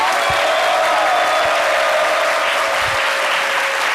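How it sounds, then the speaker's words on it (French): A seated audience applauds to welcome a university dean onstage, a loud, even wall of clapping from a large crowd that holds steady throughout, with a faint tone running beneath it. "Bienvenue, Neba, que je vous demande d'applaudir."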